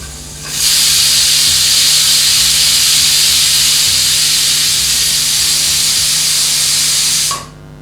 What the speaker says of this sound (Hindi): पहले हम इसे हाई फ्लेम पर 1 विसल तक पकाएंगे